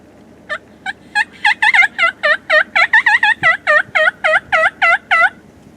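Wild turkeys gobbling in a Kansas field, a rapid series of about twenty loud, close warbling gobbles that overlap and repeat in quick bursts over a faint background hiss.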